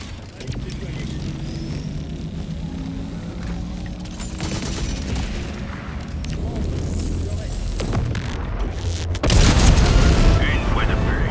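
Bombs and heavy blasts in the video game Helldivers 2, booming and cracking over busy game noise, with a louder, denser eruption near the end; voices talk throughout.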